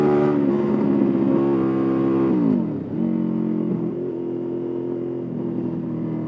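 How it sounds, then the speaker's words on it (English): Motorcycle engine heard while riding after rain, a steady loud harmonic drone that drops in pitch as the rider eases off, then settles into a lower, even cruising note, close and continuous with no talk. "Anyone else ride differently to the sound of the bike?"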